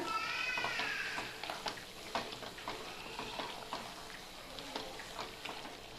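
Pallipalayam chicken with pepper and curry leaves is stirred in a pan: a soft sizzle runs under repeated scraping strokes of the spoon, with a brief meow-like squeak near the start.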